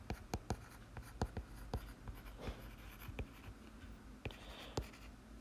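A marker or chalk taps and scratches across a board while math is written out, a quick irregular series of close, sharp strokes with faint room noise between.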